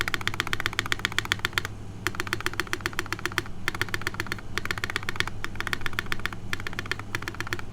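A mechanical keyboard is typed on quickly and continuously during a keyboard build, with dense, bright clacking runs split by short gaps over a steady low background hum.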